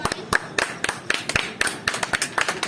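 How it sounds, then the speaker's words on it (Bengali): Hands clapping in a rapid, uneven burst of sharp slaps, close and fairly loud, with no talk over them, at a home game where a blindfolded person puts a bindi on their mother's forehead. "খুবই সুন্দর হাততালি একটা"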